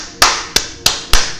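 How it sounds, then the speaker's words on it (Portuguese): Four sharp, evenly spaced claps ring out close and loud, each with a brief decay, with no voices present. "Palmas, palmas, salva de palma."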